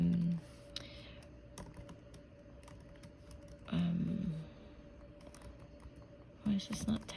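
Quiet, close clicking of keys on a computer keyboard in irregular bursts, with brief soft speech breaking in between the taps.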